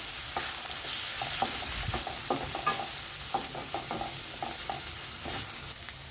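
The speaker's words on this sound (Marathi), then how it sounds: "मसाला छान हलवून घ्यायचा आहे आपला" A spatula stirs okra masala with coriander-cumin powder, turmeric and red chili in a pan, producing a continuous sizzle with repeated close scraping and tapping strokes.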